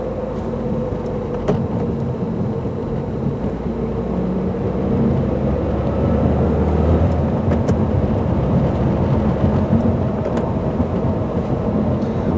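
Low, steady rumble of a 2015 Subaru WRX engine and road noise while driving on winter roads, a continuous drone that swells slightly midway, with faint rattles and no talking.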